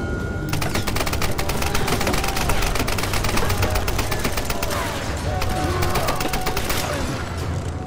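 Rapid gunfire in Tomb Raider (2013), a steady crackle of automatic shots under game noise, loud and continuous for the whole stretch.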